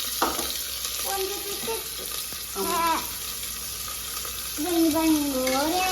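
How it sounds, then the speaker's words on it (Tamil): Onions and curry leaves frying in hot oil for a Sunday mutton curry, a steady broadband sizzle throughout with a few brief higher tones over it and no talk. "இப்போ வந்து வெங்காயத்தையும் கருவேப்பிலை சேர்த்துக்கலாம்."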